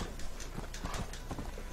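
Horse hooves clip-clopping in the video game Red Dead Redemption, a quick steady trotting patter of hoof beats with a faint whinny-like tone, fairly quiet and unbroken.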